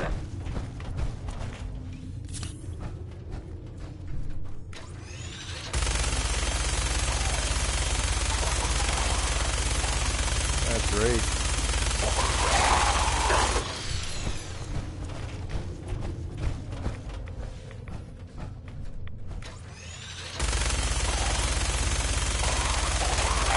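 A minigun in a video game fires at a ghoul in long, continuous loud bursts broken by brief pauses and mechanical whirring and clanking, with a few short moments of quieter background noise between bursts.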